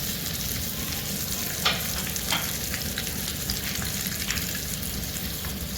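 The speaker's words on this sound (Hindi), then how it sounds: "थोड़ा सा सा मेल्ट करते हैं बटर को।" Butter melting and sizzling in a pan before garlic and prawns go in, a dense, even crackling hiss held throughout with a couple of faint utensil taps near the start.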